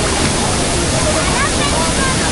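A waterfall in a canyon in Moalboal roars loud and steady, a dense unbroken rush of falling water that fills the whole moment.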